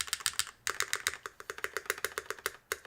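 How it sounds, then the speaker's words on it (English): A custom NAMA mechanical keyboard is typed on in quick runs of crisp, clacky keystrokes, close and clear, with a brief pause before the rhythm resumes; no voices. "I would say the rest of the keyboard actually sounds pretty good."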